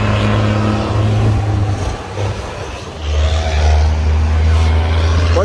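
A BMW M6 drives past on a street among other sports cars, its engine a loud, steady low drone that dips briefly in the middle, then swells back up.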